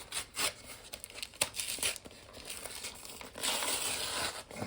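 A Pokémon booster pack wrapper torn open with a struggle: close, loud crinkling and ripping of foil packaging in bursts and sharp tears, with a sustained crackling tear near the end.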